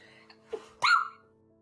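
A single sharp sneeze, preceded by a quick breath intake, bursts out close and loud in an otherwise quiet room, then trails off.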